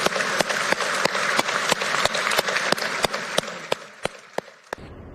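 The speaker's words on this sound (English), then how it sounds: "let's give Dad a round of applause and just make any noise you want" Applause at a memorial for a fallen sheriff's deputy, a steady wash of many hands with sharp, rhythmic single claps standing out and slowing toward the end as the clapping fades.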